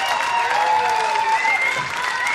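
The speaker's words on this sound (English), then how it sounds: "Gets a beautiful ovation by the crowd." A poker tournament audience applauds a third-place finisher, a dense, sustained round of clapping with a few tonal voices mixed in.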